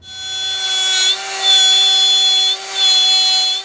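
A router bit cuts along the wood of an upcycled cabinet door, a loud, steady high whine that holds close for several seconds with brief dips between passes.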